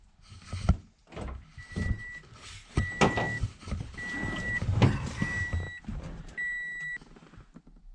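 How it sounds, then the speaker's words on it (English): A car door clunks and slides with bumps and thuds, while a repeated electronic beep chimes several times in the background, on an FR-S with a K24 engine swap. "Since I have the door closed, I will open it."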